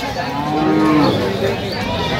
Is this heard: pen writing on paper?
no